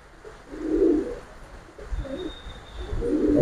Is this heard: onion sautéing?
no